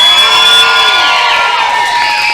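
A crowd at a wrestling event screams and cheers for the senior referee, a loud, sustained wall of shrieks and whoops that fills the space and tapers slightly toward the end.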